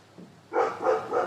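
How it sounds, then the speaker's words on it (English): A dog gives three quick barks in a row, fairly close, after a brief quiet moment. "Barking. He hates this song apparently"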